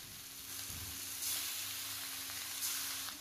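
About 500 g of mutton sizzles as it goes into onions fried golden brown with whole spices in a pan: a steady, close frying hiss swells twice as the meat hits the oil and shifts, with no voices.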